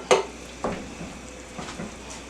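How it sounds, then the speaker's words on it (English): A few soft utensil scrapes and squishy chops of canned tomatoes with their juice in a pan, quiet and close, with a faint sizzle underneath. "Like you're chopping tomatoes in a pan."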